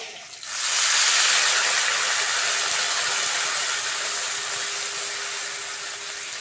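Water is poured into a hot pan of fried potatoes and bursts into a loud, steady hiss that begins abruptly and slowly fades while holding on, with no talking.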